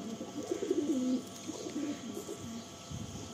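Andhra pigeons in a loft coo in low, rolling phrases at close range, repeating several times with short pauses between calls.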